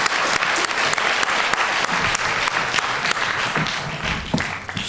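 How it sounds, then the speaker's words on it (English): A conference audience applauds a panel, steady dense clapping filling the room at an even level from start to finish before tapering slightly at the end. "final round of applause for our panel"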